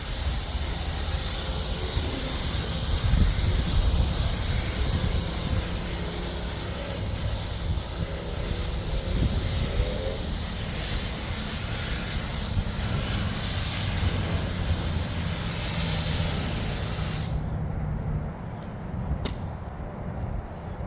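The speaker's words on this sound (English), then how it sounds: "I'm going to be applying an etch primer." Etch primer is sprayed from a spray gun onto the worn equalizer bar of a D11 dozer being rebuilt, a loud continuous close hiss that runs for about seventeen seconds before cutting off, followed by a brief faint tick.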